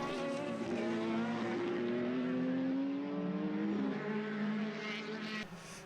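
Formula BOSS single-seater race cars roar past on a track during a race, several engines overlapping with rising and falling pitch sweeps as they accelerate and pass, loud and close throughout.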